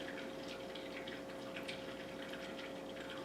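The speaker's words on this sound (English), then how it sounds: "you take that hot water and you pour it into the bootie" Hot water being poured into a surf bootie, a soft steady trickle and gurgle of liquid filling the boot, faint and continuous with no voices.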